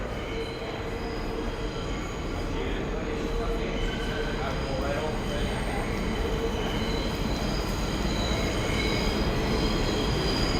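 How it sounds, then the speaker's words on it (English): Subway train rolling through a New York City station at close range, a steady loud roar of wheels and railcars with faint squealing, heard with people talking underneath. "Oh my God, this is my train already?"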